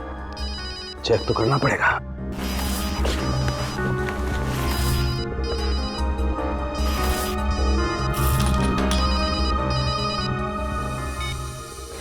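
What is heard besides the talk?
mobile phone ringing inside a bag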